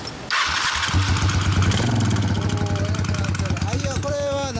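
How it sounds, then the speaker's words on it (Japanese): A fully customised 1993 Honda Steed 600 motorcycle with a loud aftermarket exhaust runs close by, its deep engine rumble rising and holding as voices talk over it. "ちょっとエンジン音聞かせてもらえる？"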